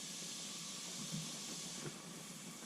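White wine hits calamari already cooking in a pan on a Seawind 1600 catamaran, giving a steady, close hiss of sizzling steam with small bursts of bubbling and no talk.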